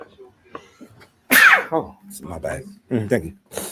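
A single sharp sneeze bursts out after a few soft sounds, followed by a person speaking briefly.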